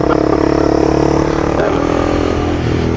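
A small Honda CB300F motorcycle engine running while the bike is ridden, a steady buzzing drone with an even pulse and a slight shift in pitch midway, close and loud.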